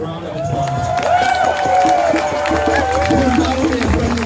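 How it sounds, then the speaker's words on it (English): Crowd at an outdoor protest rally in Toronto applauds and cheers, a dense steady wash of clapping, whoops and voices sustained throughout at close range. "Please give him a round of applause."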